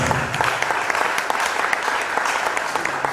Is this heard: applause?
yes